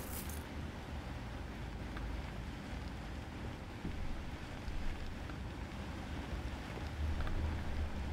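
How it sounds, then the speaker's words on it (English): Heavy rain pours in Cyberpunk 2077, a steady, quiet wash of hiss and low rumble that runs unbroken with no voices over it. "it's pouring outside,"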